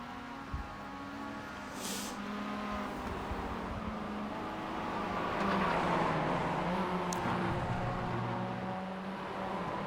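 Mazda MX-5 race car in the iRacing sim at Oulton Park, its engine droning steadily with shifting harmonic tones as it closes on another car, a continuous moderately loud whine throughout.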